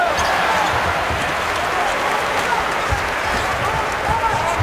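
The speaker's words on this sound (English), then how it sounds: "What a crowd." A basketball arena crowd at a Michigan vs. Illinois game roars and cheers continuously. Loud, dense noise fills the space, with faint thumps underneath.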